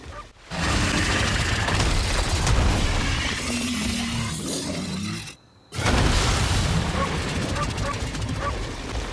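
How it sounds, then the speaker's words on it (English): Garangolm's flash boiled clap attack from a video game lands as a loud, crashing blast with rumbling, shattering debris. It cuts briefly to near silence before the roar resumes and fades. "disintegrate anything that may be overhead with a devastating flash boiled clap"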